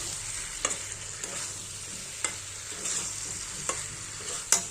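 Spice paste sautés in a pan for a fish curry with vegetable stalks. A soft, steady sizzle runs underneath, broken by sharp spatula scrapes and clicks roughly every second.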